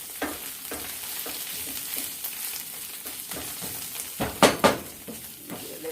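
Plant-based vegan sausage fries in olive oil with a steady close sizzle, broken by the scrape and clatter of stirring utensils against the pan, louder clanks near the end.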